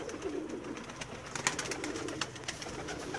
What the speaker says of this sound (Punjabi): ਇਹ ਆਪਕੇ ਸਾਹਮਣੇ ਇਹ ਕਮਗਰ ਕਬੂਤਰ ਹੈ ਜੀ